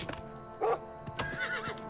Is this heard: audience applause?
no